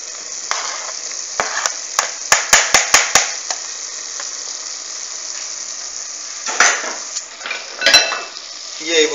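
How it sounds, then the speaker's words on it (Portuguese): Garlic and onion go into a hot pan of okra, a loud steady sizzle of frying with a rapid run of sharp utensil taps against the pan and later scraping and stirring clatter. "É nessa hora que eu coloco o alho com a cebola"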